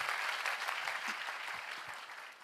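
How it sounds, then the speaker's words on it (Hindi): Audience applause at a talk about a startup payment wallet, a dense burst of clapping from a crowd that holds fairly even and then eases slightly, moderately distant. "ताली बनती है ना, बजाइए।"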